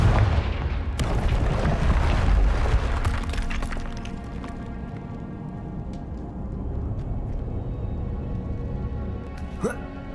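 Confringo fire spell blast in Hogwarts Legacy, a loud booming explosion with crackling debris that decays into a lingering rumble and scattered impacts, with a voice briefly over it.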